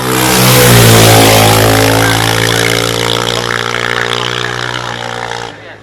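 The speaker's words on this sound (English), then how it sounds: "Guy's entry speed seems quite high, and the bike tries to throw him off" Racing motorcycle accelerating hard at the Shelsley Walsh hill climb during a Reg Phillips Trophy Meeting run-off, a loud, close, sustained high-revving engine roar that holds steady and then cuts off near the end.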